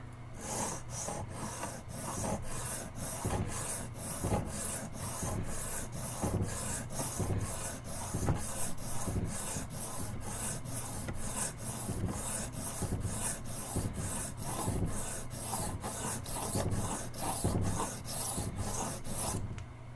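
Steady, rhythmic rasping strokes of a Camillus electrician's knife blade being ground to widen a narrow bevel, continuous and close with even loudness and no talk.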